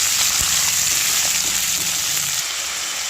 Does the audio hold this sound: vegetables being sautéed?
yes